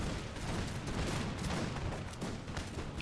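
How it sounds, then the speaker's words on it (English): Musket fire crackles densely through an American Revolution video game battle, shots overlapping into a continuous loud fusillade with no pauses, no talking over it. "Lots of musket fire going in here."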